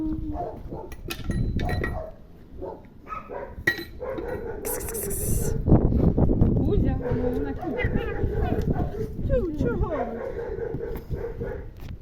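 A dog barks in short yapping bursts amid outdoor activity, with people talking nearby and occasional clinks of tools.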